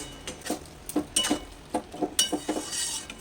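A spoon stirs bottle gourd and prawn curry in a pan over low heat, giving irregular scraping clinks and knocks that come close and fairly clear, with no talking.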